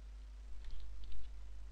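A few quiet computer mouse clicks ring out close by as a web page file is saved, several light taps spread over a short stretch against a low steady hum, with no one talking.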